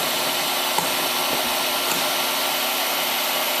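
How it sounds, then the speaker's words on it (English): A DeWalt heat gun runs steadily during varnish stripping on a 1937 20-foot Lyman boat, a constant close-up whooshing blower roar with no breaks or voices. "heat guns."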